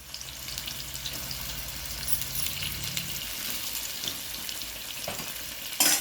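Thinly sliced onions fry in hot oil, giving a continuous close crackling sizzle with a low rumble underneath for the first half, then a sharp knock at the very end; nobody speaks.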